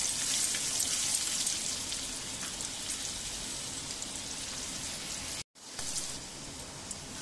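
Turmeric frying in a pan: a continuous, fine crackling sizzle like light rain, steady and close, with one brief dropout near the end and no talk.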